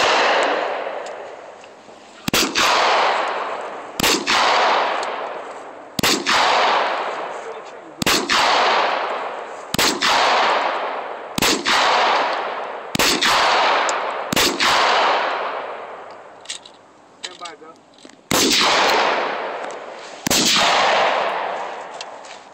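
A handgun fitted with a laser sight is fired at a shooting range: about a dozen loud, close shots, each with a ringing decay, come at uneven intervals, some in quick pairs.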